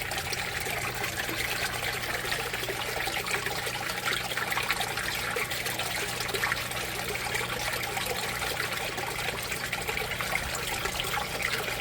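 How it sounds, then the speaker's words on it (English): An aquaponics grow bed on a 60-gallon system set up outside drains through its siphon, giving a steady, continuous trickle and gurgle of flowing water at moderate level throughout, with no voices. "It's dumping the grow bed out."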